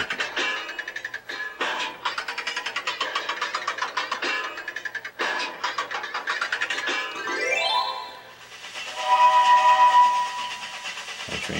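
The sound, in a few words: train sounds from an iPad train racing game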